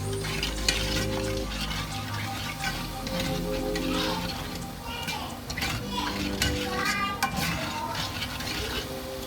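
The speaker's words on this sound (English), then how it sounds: "give it a little stir." A seafood boil being stirred in a pot, with scraping and clinking of the utensil against metal over a soft bubbling sizzle, moderately quiet and steady.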